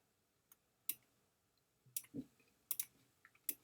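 Quiet computer mouse clicks on a button, a few sharp isolated ticks scattered across a near-silent background with a faint bump of handling noise.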